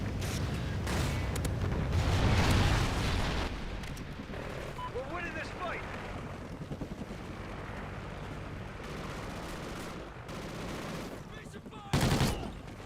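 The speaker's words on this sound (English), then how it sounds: "Friendly Trinity rocket inbound." A Trinity rocket strike slams down in a shooter game, heavy explosive booms and rumbling gunfire swelling early and again near the end, with voices talking throughout.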